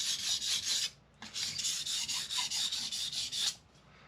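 A blade rasps back and forth across CBN sharpening plates in steady, even strokes with a short pause after the first pass, close and clear with no talking.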